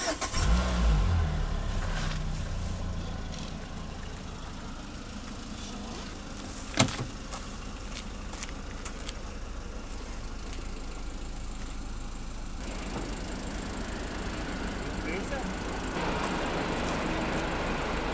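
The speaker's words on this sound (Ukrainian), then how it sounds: "Може треба завести машину?" A Citroen C-Elysee idles steadily close by for the whole stretch, with a single sharp knock partway through and a slight change in tone near the end; the start itself is not distinct.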